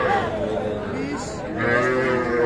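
A bull calf moos at a rural cattle market, two or three drawn-out, fairly close lows in a row, with faint crowd murmur in the background.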